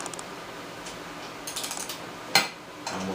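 A ratchet wrench works on a ball joint during a 2003 Ski-doo MXZ suspension repair, giving faint, quick clicking bursts, then one sharper metallic clack and a final short ratcheting rattle, close, with no talk.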